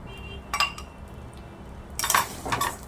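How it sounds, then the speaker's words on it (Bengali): Vermicelli (semai) tipped into hot ghee in a pan for payesh, heard as two short bursts of crisp rattling and clinking, close and fairly loud against a quiet kitchen background. "এবার আমি সিমইগুলো ঢেলে দেবো"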